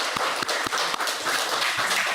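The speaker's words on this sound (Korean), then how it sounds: "우리 환영에 좀 박수를 좀 쳐드릴까요?" Scattered, fairly quiet applause from a small church congregation welcoming a visitor during a worship service, a few distinct claps over a soft murmur of room noise.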